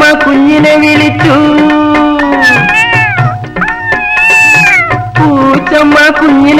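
A voice imitates a mother cat's drawn-out meows calling her kitten, sung as long wavering cries over steady musical accompaniment in a Malayalam comedy song.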